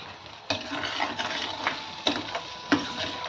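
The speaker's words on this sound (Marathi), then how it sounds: "आणखी यामध्ये मी परतून घेणार आहे त्याला" A chana masala mixture sautéed in a pan, with a steady soft sizzle broken by several sharp scraping strokes of a spoon stirring against the metal. No voices.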